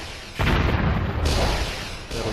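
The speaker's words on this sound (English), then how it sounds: "You guys stop shooting, please." Units firing in the strategy game Warzone 2100 make a steady, dense roar of booms and bursts that runs almost unbroken from start to end, loud and close, with no talk over it.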